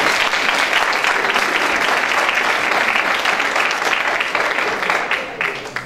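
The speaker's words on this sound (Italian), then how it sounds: "Applauso, Giuseppe." Dense, loud applause from a school conference audience fills the hall steadily, then begins to taper off at the end.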